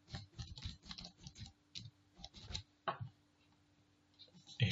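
Quick bursts of keystrokes on a computer keyboard as an e-mail address is entered, close and fairly quiet, in short clustered runs with brief pauses and a louder tap at the end.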